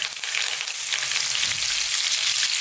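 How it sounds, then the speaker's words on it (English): Fresh curry leaves hitting hot oil in a pan, a loud continuous crackling sizzle with bright spitting pops, close up and alone without talk. "we're going to add some fresh curry leaves, which are usually quite noisy"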